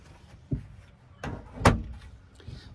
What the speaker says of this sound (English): Fridge door.